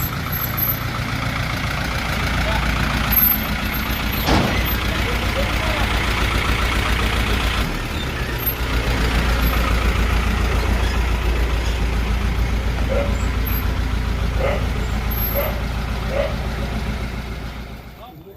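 A tow truck delivering a Ford Ecosport with an overheating engine idles and rumbles low and steady, with occasional clanks and knocks from the towing gear and bursts of people talking over it.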